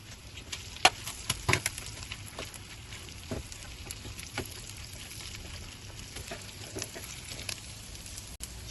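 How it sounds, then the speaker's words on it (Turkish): Chicken gizzards and capia peppers sauté in a sac pan, giving a steady close sizzle and frying hiss with scattered sharp clinks and scrapes of stirring throughout, and no talking. "Şimdi biberlerimizi ölünceye kadar taşlığımızla birlikte kavuralım."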